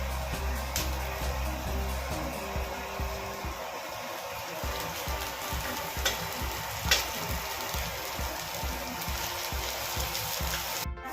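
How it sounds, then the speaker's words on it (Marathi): Onion, chilli and capsicum fry loudly in a pan with a steady, dense sizzle and a few stirring scrapes, close up, with no talking. "आपण 4 ते 5 मिनिट फ्राय करून घेतलेला आहे।"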